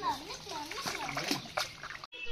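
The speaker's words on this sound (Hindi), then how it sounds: "और तुम क्या पानी खेल रहा है जॉर्जी, पानी वेस्ट नहीं करो।" A young child splashes and plays with garden water, splatters and sloshes scattered through the clip while a voice chatters on top, then a brief gap near the end.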